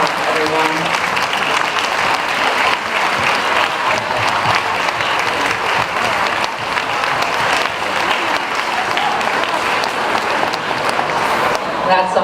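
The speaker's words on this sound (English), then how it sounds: "get a round of applause" A large audience at a public school convocation applauds its teachers in a long, steady wash of clapping at full strength, with faint voices mixed in underneath.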